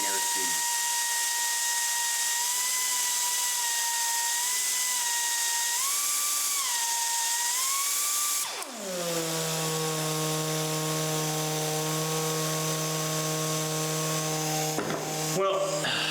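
An Ingersoll Rand 301B angle die grinder runs on compressed air with a steady high-pitched whine that shifts briefly, then drops to a lower, throatier pitch as speed changes, loud and continuous throughout.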